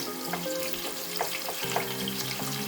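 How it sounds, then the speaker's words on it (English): Onion sautéing in a pan before fresh fish goes in for a stew, a soft continuous sizzle heard fairly quietly and evenly, with faint scraping stirs now and then. "Leave the onion to saute a bit or fry down a bit"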